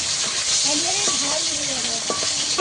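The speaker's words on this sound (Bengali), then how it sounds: "এই বাকি মাছগুলোকেও একইভাবে ভেজে নেব" Fish pieces frying in hot oil for a spiced fish curry, a steady bright sizzle with soft stirring and spatula scrapes close by, no talking.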